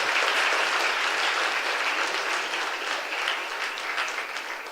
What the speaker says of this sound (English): So a big round of applause to all the men here